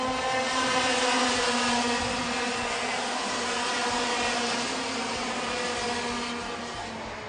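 Junior-class karts race past on a track, their engines making a steady, droning buzz that lingers and slowly fades toward the end.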